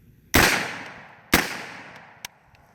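Omega MP5 fired in semi-automatic mode with unsuppressed 115 grain rounds: two loud, sharp single shots about a second apart, each ringing out briefly, then a smaller sharp click or pop.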